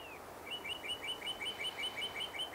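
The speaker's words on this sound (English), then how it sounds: "Birds." Small birds chirp and tweet in a quick, steady series of high, bright calls, close and clear over faint background hiss, with no voices.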